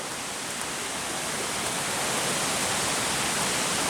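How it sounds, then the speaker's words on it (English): A waterfall on the Old Loggers Path trail roars continuously, a dense close-up hiss of falling water with no breaks. "This is one of the better waterfalls we've seen out on the trail."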